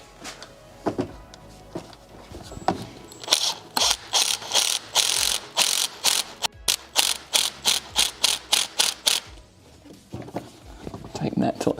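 Ratcheting wrench tightening a bolt on a Nissan 200SX in a home garage, a fast run of sharp repeated clicks in quick bursts, fairly close and loud, with a person talking around it.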